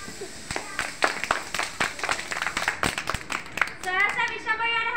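Young nursery children clapping their hands in a classroom, a run of sharp, uneven claps close by, with a voice rising briefly near the end.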